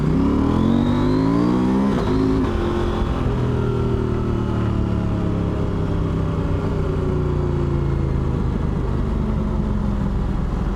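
A KTM 890 Rally motorcycle accelerates in off-road mode, its engine loud and close, rising in pitch through a gear change and then climbing steadily again under sustained throttle.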